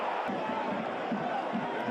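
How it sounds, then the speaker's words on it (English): A football stadium crowd roars steadily in a continuous broad wash throughout a Chelsea vs Lincoln match. A commentator's voice sounds faintly under the crowd noise. "You can tell when he has the ball because the crowd noise changes dramatically"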